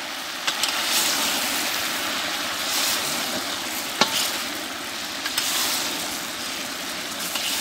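A majun mixture is roasted in a pan, a loud, steady rushing sizzle close up, with a few sharp clicks and scrapes of stirring scattered through; no one is talking.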